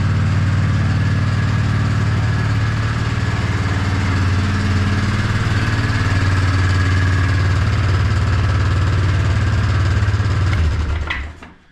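A four-wheeler ATV engine idles steadily at close range, a continuous low rumble with a slight mechanical buzz that holds even for about eleven seconds before cutting off abruptly at the end.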